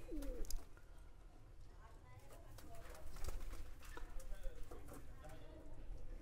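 Pigeons kept as pets coo softly in their enclosure, mixed with scattered clicks, wing shuffles and a faint voice in the background.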